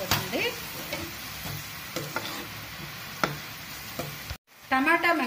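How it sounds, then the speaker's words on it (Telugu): Small-cut tomatoes fry in a pan for a curry, giving a steady crackling sizzle with repeated stirring clicks and scrapes. A brief pause comes near the end before a louder burst of frying. "టమాటా చిన్నగా కట్ చేసుకొని వేసుకుందాం."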